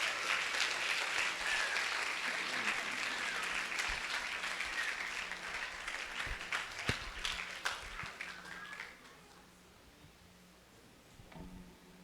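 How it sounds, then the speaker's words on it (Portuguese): A church congregation applauds during a sermon, a dense sustained wash of clapping that fills the room for several seconds, then fades to a few stray claps and near quiet. "Vamos aplaudir o Senhor por essas verdades."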